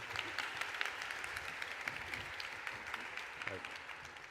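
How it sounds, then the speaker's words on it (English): Faint, dense applause from a conference audience at a panel on Saudi Arabia's 2034 World Cup bid rolls on steadily at a distance, with a voice briefly surfacing near the end. "A round of applause."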